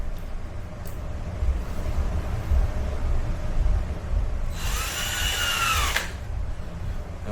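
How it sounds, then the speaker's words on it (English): A power drill drives a screw into a staghorn fern mount in one loud, whining burst of about a second and a half, close by, amid quiet background noise. "and here's my drill."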